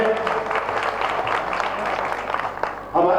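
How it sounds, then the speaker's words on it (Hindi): Audience at a Jain religious ceremony applauding to honor a volunteer, a sustained round of hand clapping, fairly close and steady, easing off near the end as a voice begins. "अभिनंदन करिए उनका तालियों से"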